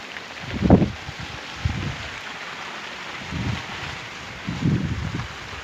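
Rain falls outdoors in the evening, a soft steady hiss of drops, with several louder low thumping bursts rising and fading at intervals over the background patter.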